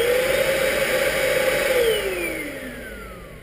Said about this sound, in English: then you're going to turn on the vacuum cleaner.